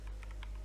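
Keys on a computer keyboard being typed, a handful of quick clicks in an uneven rhythm, close and fairly quiet over a steady low hum.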